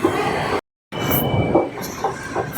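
A metro train rumbles and rattles through a station, a loud continuous rolling noise with a brief dropout, faint wheel squeal and clatter over the rails.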